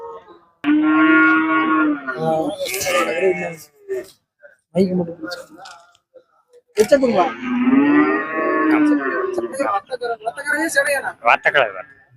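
Cattle at the Puliyampatti cattle market give long, loud, close moos, two drawn-out calls separated by a pause, mixed with scattered voices of people nearby.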